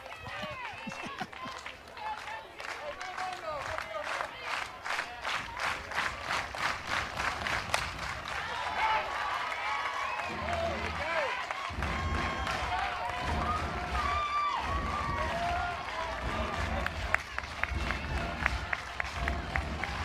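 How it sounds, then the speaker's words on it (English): A college softball crowd at South Carolina vs Kentucky on senior day rises to its feet, cheering and clapping in a swelling, continuous roar, with a commentator talking over the noise. "You hear the crowd, they come to their feet"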